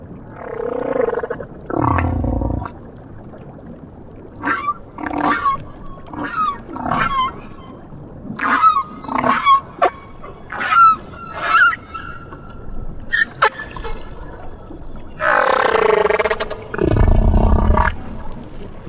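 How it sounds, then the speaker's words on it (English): Humpback whale song recorded underwater in the South Pacific: a long series of moans, groans and rising whoops, with loud low roars at the start and end and a rhythmic run of pulsed calls between, no talk. "The song of other whales in the North Pacific is completely different."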